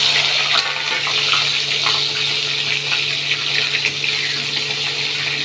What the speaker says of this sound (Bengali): আলুগুলো একটু ভেজে নিই।